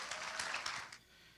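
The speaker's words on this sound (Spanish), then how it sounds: "Recíbanle por favor con un aplauso" Church congregation applauding to welcome a ministerial student preacher, a short burst of dense clapping that fades out within a second.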